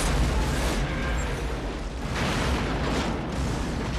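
Explosion from an action film with Michael Caine and Steven Seagal: a loud, dense, broadband roar rolling on for several seconds with surging bursts of debris and rumble, no talk.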